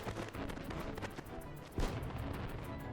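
Fireworks popping at a summer festival event in the Final Fantasy XI game world, a steady crackle of bursts with one heavier boom standing out near the middle, set against a dense background of event music and ambience.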